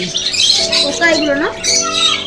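Many birds squawk in shrill, repeated bursts close by at Lahiri Baba's ashram in Bandel, with people talking over the calls throughout.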